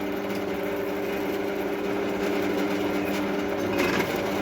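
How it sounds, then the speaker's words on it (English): A drill grinds steadily through the steel of a section of railway track being made into an anvil, a continuous mechanical whine and hum held close and fairly loud for the whole stretch, with no voices. "So now we'll go through and re-drill out all of the other holes"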